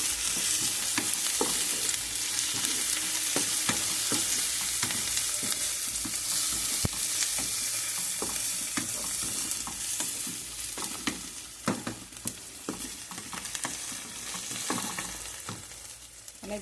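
Tomatoes frying in a pan for an egg fry, a loud steady sizzle with repeated stirring scrapes throughout, close and continuous with no talking.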